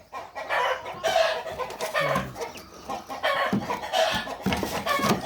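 Shamo chickens, a pure meat-type game breed, cluck steadily on a Philippine poultry farm, with several birds calling in overlapping bursts at close range and a brief low crow mixed in.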